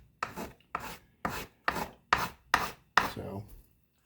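A gouge and small hand planes shave a cherry violin top plate toward final thickness, producing seven evenly spaced rasping strokes, close and distinct, each a short scraping swish with brief pauses between, and no speech.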